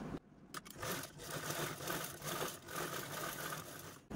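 Domestic sewing machine stitching an invisible zipper onto a fabric pillow cover, a steady close whirring run with brief pauses at the start and end.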